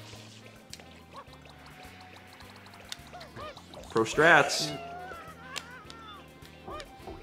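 Ducks quack in the Super Mario Sunshine video game, several short honking calls with one louder burst midway, heard over the game's steady rhythmic music while players talk.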